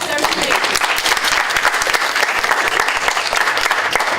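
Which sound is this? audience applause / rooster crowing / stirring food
audience applause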